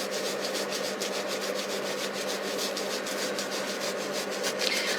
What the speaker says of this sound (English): with the bubble wrap, I'm going to gently massage